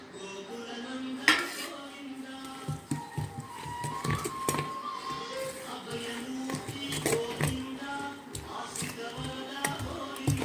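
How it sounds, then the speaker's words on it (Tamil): Onion, coconut pieces and drumstick leaves are stirred into adai dosa batter in a bowl, with clinks and scrapes of a spoon against a metal vessel in irregular bursts, close up with faint kitchen clatter around. "இப்போ எல்லாம் மாவில் போட்டு கலரிடலாம்"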